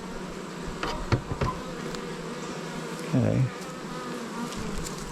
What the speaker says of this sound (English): Let's blow a little smoke on these irritated bees.